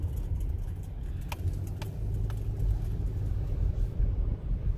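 A car driving slowly over bumpy rocks on a forest trail, a steady low rumble of the engine and tyres with occasional rattling knocks and jolts from the cabin, close and continuous.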